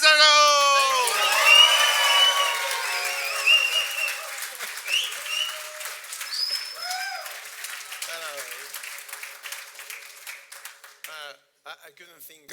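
Conference audience at a FinOps X Europe event applauding and cheering for a speaker, loud clapping with whoops at first that thins into scattered claps over about twelve seconds.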